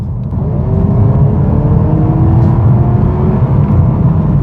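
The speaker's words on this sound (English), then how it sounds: "yes, there is a bit of engine sound coming into the cabin, which is quite nice" A 2026 Honda Prelude's engine fills the cabin under acceleration, a loud, steady drone whose tones climb smoothly as the car gains speed, with no voices.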